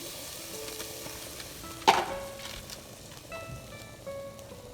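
Diced chilies and pork sizzling in a hot pan with canned diced tomatoes, a sharp clatter at the moment they land, then a softer continuous sizzle with light stirring scrapes.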